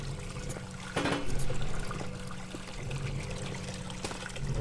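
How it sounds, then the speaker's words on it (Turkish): Blood trickles and pours steadily in the horror game Amnesia: White Night, a continuous wet dribbling stream with a louder surge of pouring around the middle, heard alone at moderate level. "Buradan kan akıyor."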